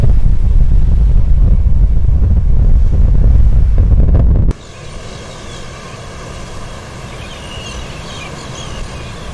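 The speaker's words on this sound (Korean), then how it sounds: "파도가 높고 안개가 심한 오츠크해." High waves and strong wind on the Sea of Okhotsk: a loud, blustery rumble of wind buffeting, then an abrupt shift to a quieter, steady wash of surf.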